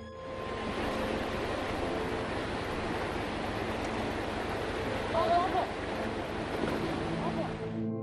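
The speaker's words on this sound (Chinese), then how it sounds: "因为这个洪水的杂音太大了" Floodwater sweeping around people trapped near a tractor makes a dense, unbroken roar that fills the whole sound evenly, loud and constant, with no clear pauses.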